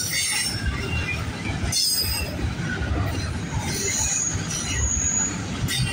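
A freight train rolls past close by, steel wheels squealing loudly over a constant rumble and rattle of cars that continues throughout.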